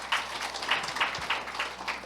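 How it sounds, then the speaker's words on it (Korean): At a university education forum, audience applause comes as a light, distant patter of individual claps that pulses unevenly for about two seconds. "다시 한번 박수 부탁드리겠습니다."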